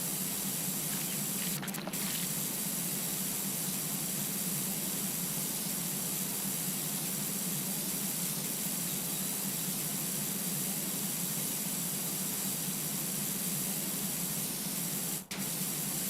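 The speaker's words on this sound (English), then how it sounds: "I forgot I could just right click and have like a constant spray going" Pressure washer in the video game PowerWash Simulator spraying continuously, a steady, even hiss of water jet noise that runs unbroken throughout, with only a couple of tiny clicks and no speech.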